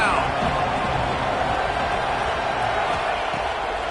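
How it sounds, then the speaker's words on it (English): A stadium crowd at a Texas Tech football game roars steadily on a third down, a loud, continuous wash of noise under a commentator's voice. "Guns up, and so is the noise. The crowd electric trying to help Tech on this third down."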